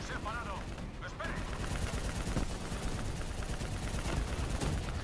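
Dense, continuous bursts of rapid gunfire dominate throughout, with layered shots and impacts forming a busy, loud barrage in a Call of Duty: Black Ops 3 campaign firefight.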